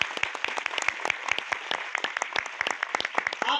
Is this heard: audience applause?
yes